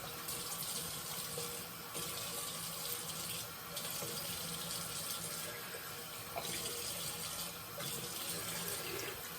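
Tap water runs steadily into a sink while a razor is rinsed, a continuous bright splashing stream with small shifts in flow and no voices.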